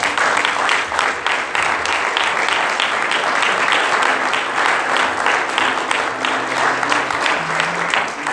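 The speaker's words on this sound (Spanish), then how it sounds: "Denle un aplauso, Señor." Sustained applause from a church congregation fills the whole stretch, dense and steady clapping with faint voices murmuring underneath.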